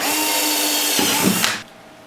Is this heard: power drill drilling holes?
yes